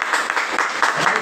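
An audience applauds at a Vestige business gathering in Ghazipur, Uttar Pradesh, a dense wash of clapping that stays steady for about a second.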